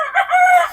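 Hens on a Filipino backyard farm, all laying hens of an SBR breed, giving a short, close, loud clucking call with a crowing-like rising tone. No voices are heard.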